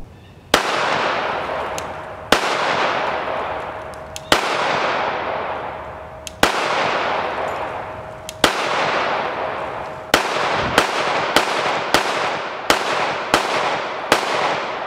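A Glock 21 pistol fires .45 ACP rounds: loud, sharp reports, spaced at first and then in a quicker string, each ringing out briefly with no talk.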